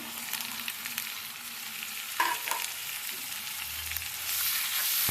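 Meat cooking in a pan with onion paste, garlic paste, chili powder, turmeric and salt, fried and stirred alone, a steady broadband sizzle with occasional scraping knocks from a utensil.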